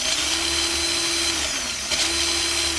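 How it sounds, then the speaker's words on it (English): Plastic gearbox of a WPL C34 Land Cruiser FJ40 RC car driven by a GM25 2000 RPM motor on a 3S battery, giving a steady close whine with a continuous tonal hum and brief dip near the end, no talk. "original plastic gearbox sounds in my C34 with the GM25 2000 RPM motor"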